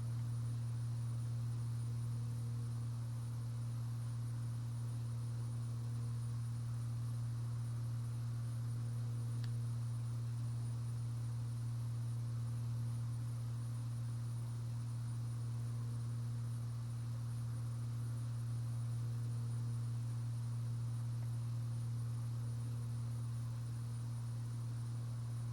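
A Bonanza propeller airplane rolls for takeoff, heard from inside the cabin as a steady, loud engine and propeller drone with a constant low hum throughout.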